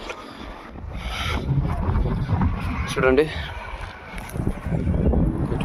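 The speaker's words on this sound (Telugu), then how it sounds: "గాలి అయితే దొబ్బుతోంది నన్ను" Strong wind gusts across a rocky hilltop and buffets the microphone with a low, rushing roar. Someone talks over it throughout.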